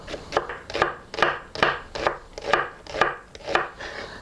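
A knife slices through an onion on a cutting board, making about nine steady, evenly spaced crisp cuts close by with no talking.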